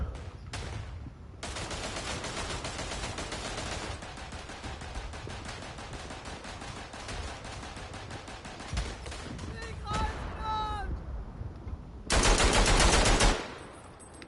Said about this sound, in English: got a nice little view here for my machine gun